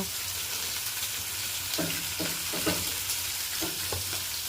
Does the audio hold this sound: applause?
no